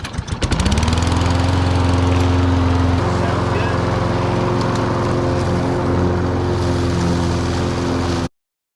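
An 1980s Case 446 garden tractor with mechanical problems starts mowing, its engine rising quickly into a loud, steady drone that runs unbroken for several seconds before cutting off abruptly.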